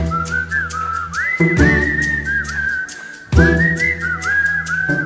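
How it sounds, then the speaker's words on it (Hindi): A melodic whistled tune plays in a film song over steady musical accompaniment, with sliding, sustained whistle notes rising and falling in phrases. "40 साल के करियर में उन्होंने 1600 से ज्यादा गानों में विसिल बजाया है।"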